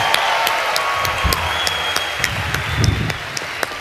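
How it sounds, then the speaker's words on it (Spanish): Applause from a live concert audience for the musicians, a steady, moderately loud spread of many hands clapping, with scattered sharper claps and faint crowd noise underneath. "un aplauso a los músicos."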